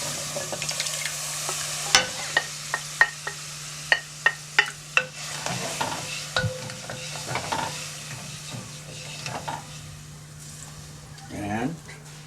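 Garlic, salt and pepper stirred in frying oil for an Italian dinner, a continuous sizzle broken by a run of sharp spoon taps and clinks against the pan, with someone talking over it.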